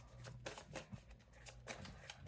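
Tarot cards being shuffled by hand close up, a quick series of soft riffling flutters and light slaps, faint and rhythmic with no voice over it.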